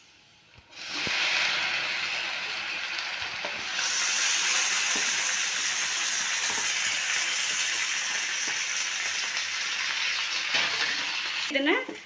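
Sliced tomatoes hiss and sizzle steadily in a hot pan for momo chutney. Occasional spatula scrapes and stirring clinks sound up close, and a brief clatter comes at the end.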